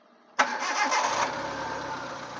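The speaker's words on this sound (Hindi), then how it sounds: "तो अभी गाड़ी स्टार्ट करेंगे।" A car engine with a suspected head gasket fault cranks and catches abruptly, then settles into a steady mid-pitched idle, close and fairly loud, running alone without talk.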